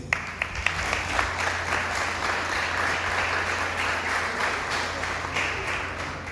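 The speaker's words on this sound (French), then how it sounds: "Applaudissez s'il vous plaît" An audience at a graduation ceremony breaks into steady applause. Many hands clap in a dense, even wash that holds throughout at moderate loudness, with a few sharper individual claps near the start.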